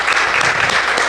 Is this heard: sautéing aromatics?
no